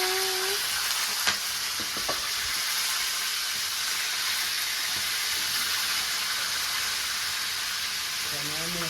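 Lobster sizzles and crackles continuously in hot oil in a pan, cooked yard style outdoors in Jamaica, with a dense steady hiss, a few sharp pops and clinks, and a brief voice near the start.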